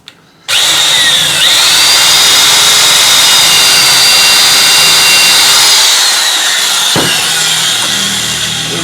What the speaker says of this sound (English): I use a big electric drill.